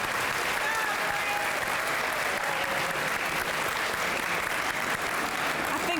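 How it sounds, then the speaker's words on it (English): Audience applause at a Relay survivor dinner, a dense, sustained clapping from a large crowd that fills the whole stretch at steady volume. "will you help me give one more round of applause to Mr. Bran Merritt?"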